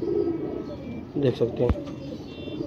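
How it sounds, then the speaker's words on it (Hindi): A pigeon, a hen bird, coos in soft low throaty bursts near the microphone, with someone talking over and around the calls. "टैडी कबूतरी है"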